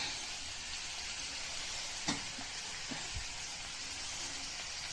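Paneer bhurji sizzles softly in a pan on a gas stove while a spoon gives it a couple of brief scraping stirs, a quiet steady fry hiss with short clinks near the middle.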